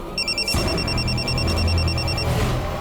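An electronic telephone ring trills in rapid repeated pulses for about two seconds, with background rumble and movement beneath it.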